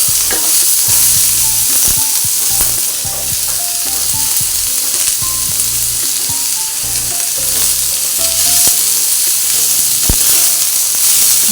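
Ginger and spices dry-roast in a pan with a loud, continuous sizzling hiss broken by repeated stirring clicks and scrapes, close up and with no talk.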